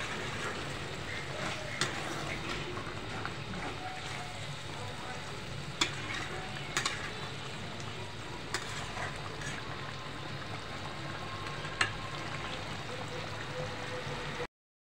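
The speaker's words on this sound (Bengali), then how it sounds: "একটু নেড়ে ছেড়ে দেব" Shol fish curry with tomato fries in a pan and is stirred now and then, giving a steady close sizzle with occasional sharp scraping clicks across the whole stretch before it cuts off.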